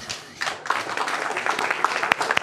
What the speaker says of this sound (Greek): Όπως επίσης ένα πάρα πολύ θερμό χειροκρότημα για τον Γιάννη τον Μανέ.